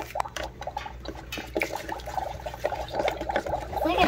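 Liquid poured and stirred into a Magic Mixie toy, giving close, soft splashing and trickling with irregular clicky stirring noises throughout.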